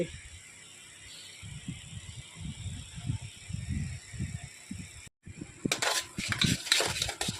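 Thickened moong dal being roasted and stirred in a pot for instant halwa, repeated soft scraping strokes in a steady rhythm, close, followed by a brief gap and louder clattering scrapes.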